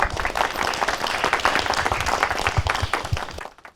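An audience at an Easter special programme applauds both teams, a dense, steady burst of clapping from a full crowd that carries on for several seconds before tapering off.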